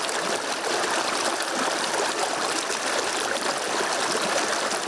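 A small creek trickling with little water during a dry summer in Colombia, a steady close rushing hiss of flowing water with no voices.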